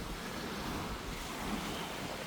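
Waves washing against a sunny shoreline in an old waterfront village in Pointe-Claire, Montreal, a steady broadband surf rush mixed with wind buffeting the microphone, with no talk throughout.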